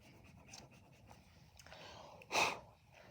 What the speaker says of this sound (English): I can also use an eraser to go and erase part of my chalk pastel.